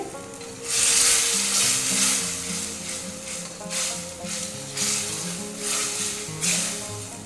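Masala for a banana flower dish fries in oil in a pan, giving a close, steady sizzle that swells and fades as it is stirred, with a low tonal hum underneath.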